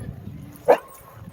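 A Korean dog gives a single sharp bark at a dog park, with quiet outdoor background around it.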